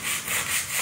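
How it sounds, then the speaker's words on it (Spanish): Sandpaper rubbed back and forth over a wooden clock face being distressed, a steady close-up scratchy hiss swelling and easing in rhythmic strokes with no talk. "Porque primero se lija vertical y luego se lija horizontal"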